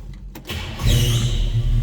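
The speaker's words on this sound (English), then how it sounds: "Let's go ahead and fire this up so you can hear it run." A 1957 Chevrolet 210 with a small-block Chevy V8 cranks briefly, then catches and settles into a loud, deep rumbling idle with a steady low throb.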